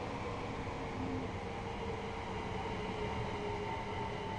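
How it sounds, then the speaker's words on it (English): A Gatwick Express train passing in the Train Sim World video game, heard as a steady, fairly quiet rolling rumble with a faint tonal whine, continuous and without speech. "Gatwick Express train by the looks of it"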